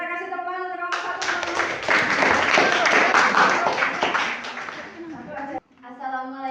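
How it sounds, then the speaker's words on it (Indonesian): A classroom of vocational students claps for a presenting group, a burst of brisk, close hand-clapping that swells, holds and then thins out, with speaking voices just before and after it. "Kita kasih tepuk tangan untuk kelompok 1"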